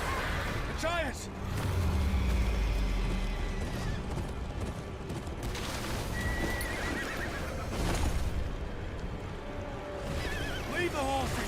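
Horses neigh and whinny repeatedly amid a loud, chaotic outdoor battle scene near a river beyond a great wall, with hoof clatter, crashes and shouting voices throughout.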